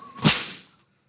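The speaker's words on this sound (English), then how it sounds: "You just heard a little sonic boom. Was the crack of the whip." One sharp, loud crack of a whip with a quick bright snap that fades over roughly half a second into silence.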